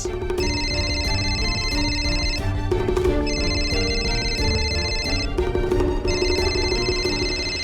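A telephone rings in repeated electronic bursts with short gaps between them, steady and fairly clear over a low background hum.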